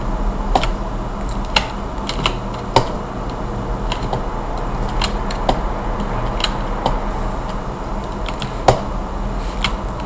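Computer keyboard keys pressed while working in ZBrush, including the Ctrl key, a steady scatter of sharp, close clicks at an irregular typing rhythm with no talk.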